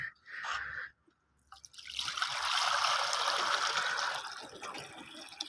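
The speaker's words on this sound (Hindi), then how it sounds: "पानी नहीं है तो इसमें मैं पानी डालता हूँ बर्तन में" Water is poured into a vessel set out for pigeons: a few faint clinks, then a steady, soft trickling splash lasting several seconds, close and quiet.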